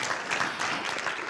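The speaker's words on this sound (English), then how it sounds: "give God a round of applause" Church audience applause, a brief, fairly quiet burst of many hands clapping together, with no talk over it.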